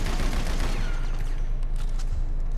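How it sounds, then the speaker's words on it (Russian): Machine gun fire in Grand Theft Auto V at a shooting range, a continuous rapid rattle of shots with no pauses, fairly loud and close, with no voices. "Да, пулемет это классно"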